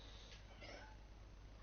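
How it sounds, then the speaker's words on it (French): A cat named Pacha gives a short, faint meow over a steady low background hum, alone with no voices. "Faut savoir que c'est un chat"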